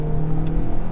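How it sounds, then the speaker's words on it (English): A 2022 Toyota Corolla Cross with a 2-liter naturally aspirated four-cylinder engine runs steadily, a low, even hum heard close and alone. "We've got a 2-liter naturally aspirated 4-cylinder engine that makes 169 horsepower and 159 foot-pounds of torque"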